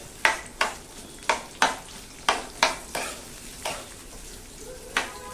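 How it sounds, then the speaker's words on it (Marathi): Onion frying in a pan for shev bhaji is stirred in sharp, evenly spaced scrapes, about ten strokes, each ringing out over a low sizzle, near and clear with no voices. "शेवभाजीसाठी कांदा मस्तपैकी तळून घेऊया"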